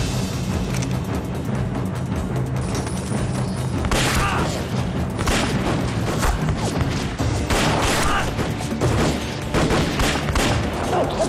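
Heavy gunfire crackles through a war drama scene set on the eve of the Battle of Taierzhuang, with Chinese fighters facing Japanese troops. Loud, dense bursts of shots and booms repeat throughout, with little pause between volleys.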